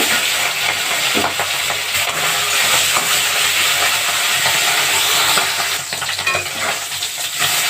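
Egg-laden desi puti fish fry in hot oil in a wok, producing a loud, steady, close sizzle and crackle that continues throughout with small spitting pops and no talk.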